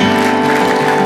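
Audience clapping at a church service, a short burst of dense applause mixed with a sustained tone, close and fairly loud.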